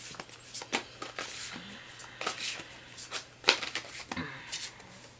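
Tarot cards being pulled and shuffled from a deck, a close series of papery slaps and flicks in uneven rhythm, under a quiet speaking voice.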